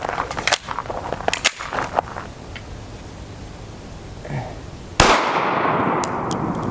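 An FN 5.7 pistol with its stock 4.75-inch barrel fires one sharp, loud 5.7x28mm shot up close, with a lingering echo, after scattered clicks and handling noise.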